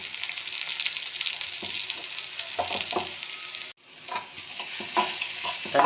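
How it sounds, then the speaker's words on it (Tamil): Red amaranth greens are sautéed with chopped onion in a pan, a steady close sizzle broken by a brief pause and then stirring scrapes, with no talk. "வெங்காயம் வதங்கியவுடன் கீரையை தட்டி வதக்கவும்."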